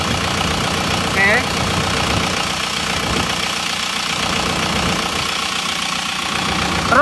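A car engine with a replaced cylinder liner idles steadily up close, a continuous even mechanical hum with faint knocking, while someone talks over it.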